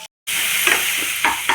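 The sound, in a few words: stirring tomato and dried prawn curry in pan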